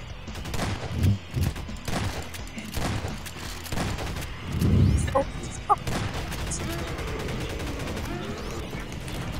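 Video game gunfire in Garry's Mod as a player shoots a spider creature on two poles, with a busy wash of shots and crashes plus a few louder bursts, while a voice talks over it.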